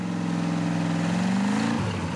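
A Riva motorboat engine under overhaul runs steadily, a close, continuous mid-pitched drone that rises slightly in pitch before settling lower near the end.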